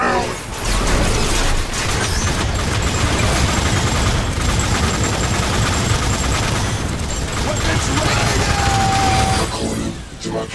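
Dense, sustained gunfire rattles through a Transformers War for Cybertron battle against aerial bots, loud and continuous bursts with mechanical clatter over nearly the whole stretch, easing off near the end.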